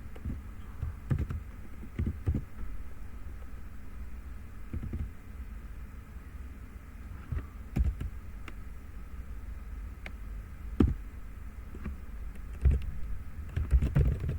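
Typing on a computer keyboard, with irregular bursts of soft key clicks and short pauses, close and fairly quiet over faint background hiss.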